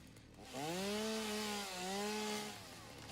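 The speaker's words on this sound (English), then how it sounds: "I can use the chainsaw for all the leaves" Chainsaw in the video game Satisfactory cutting away foliage, a revving motor buzz that rises for about two seconds, dips briefly, then winds down, close and fairly loud with no talk.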